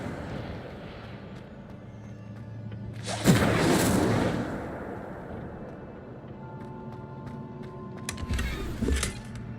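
An Incendio fire spell cast in the Hogwarts Legacy video game: a single sudden roaring whoosh of flame bursts over low background ambience, fades over about a second, followed later by a fainter rumble.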